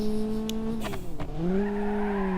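A car engine in BeamNG.drive, an orange BMW-like custom car, revs high, dips sharply as it shifts, then climbs again, loud and close with a brief tire screech.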